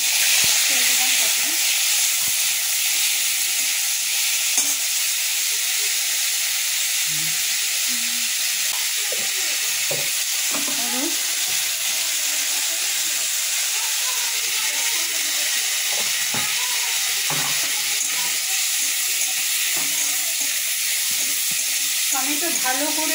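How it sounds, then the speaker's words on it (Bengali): Tomatoes frying in a covered pan for a vegetable chutney, a constant loud hiss and sizzle filling the whole stretch with faint clinks underneath and no talking. "টমেটো ভালো করে ঢেকে ঢেকে ভেজে নেব।"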